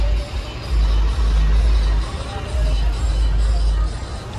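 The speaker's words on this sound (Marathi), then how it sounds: "फुल ट्रॅफिक आहे बघा" Heavy road traffic jammed around a stopped bus on a highway, a loud low rumble of idling engines with crowd babble and distant voices throughout.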